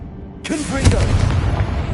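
A Confringo blasting spell bursts in Hogwarts Legacy on PS5, a sudden broadband boom that hits loud and close, then rumbles on under game sound and a voice.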